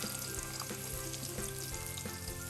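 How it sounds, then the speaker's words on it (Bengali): Chopped onion sizzling in hot oil while being stirred, a dense close frying hiss with soft scraping strokes throughout a short stretch, no voices. "পেঁয়াজ কুচিটা দেওয়ার পরে আমি এখন নাড়াচাড়া দিব"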